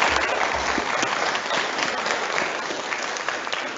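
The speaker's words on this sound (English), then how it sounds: "Let's give Gale a round of applause" Audience applause fills a hall as Gale Lemerand is called onto the stage at a speaker series event, a steady dense wash of many hands clapping for several seconds.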